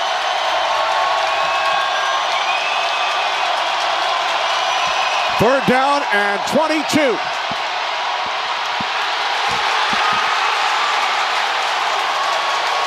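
A stadium crowd roars steadily through a 2021 NFL game between the Atlanta Falcons and New Orleans Saints, loud and continuous while a commentator speaks over it and a whistle sounds midway.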